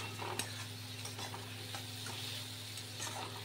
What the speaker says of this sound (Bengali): মশলা সুন্দরভাবে কষানো হয়ে গেছে